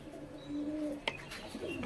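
A hand-raised, overfed pigeon, panting and a little frightened, gives a brief, faint coo close by, alone without talk.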